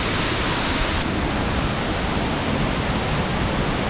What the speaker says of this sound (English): it's the highest waterfall in Croatia